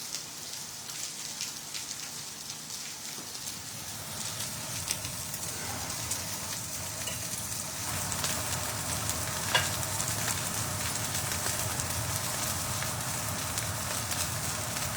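Steak seared in a dry pan with no oil, cooking in its own fat, gives a steady close hiss and crackle that holds for the whole stretch, growing a little fuller partway through, with no voices over it.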